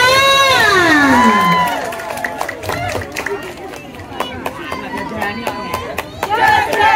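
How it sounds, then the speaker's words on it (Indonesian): A crowd at a village earth-alms carnival in Desa Panggang cheers and shouts, with children's voices, scattered claps and a rising whistle-like cry over steady hubbub, loud and close throughout. "Tepuk tangan untuk RW 6"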